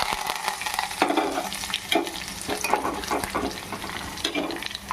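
Curry leaves sizzle and crackle in hot oil for an Andhra gongura dal tempering, a dense, steady frying hiss with bursts of spattering and stirring close by.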